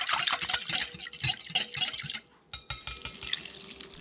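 Thin broth of water with a spoonful of flour stirred in, standing in for rice water, pours into a cooking pot in a continuous splashing trickle that breaks off briefly near the end. No one speaks.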